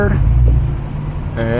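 A supercharged BMW E92 M3 downshifting, its engine note sustained and loud with a rising rev blip toward the end of the short burst.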